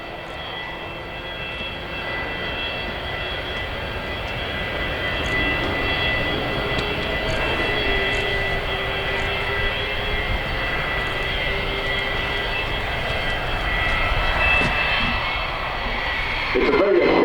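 Boeing 787-9 Dreamliner jet airliner flying a demonstration at the Farnborough 2016 airshow, a steady broad engine roar that swells gradually and holds for the full length, with no clear talk.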